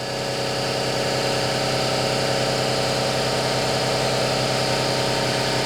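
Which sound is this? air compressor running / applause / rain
air compressor running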